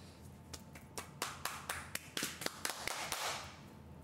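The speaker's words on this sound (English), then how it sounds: "Why'd you just clap?" A run of sharp hand claps, starting sparse and speeding up into a quick burst, close and crisp, ending in a soft rustle.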